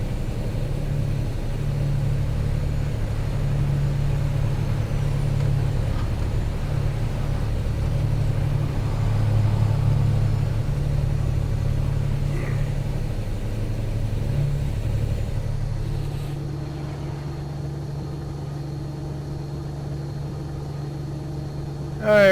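Steady low road rumble and engine drone of a car cruising on the open highway between Sacramento, California and Reno, Nevada, continuous and even, dropping slightly in level near the end.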